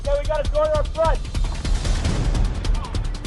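Rapid bursts of heavy machine gun fire rattle continuously, loud and close, with harmonic tones overlapping early on.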